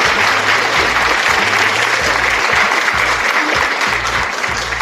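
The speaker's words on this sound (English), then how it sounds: "we need to give you a round of applause for that point" Loud applause fills a studio for a finance discussion, a dense, steady wash of clapping from a group that runs unbroken throughout and eases off slightly at the end.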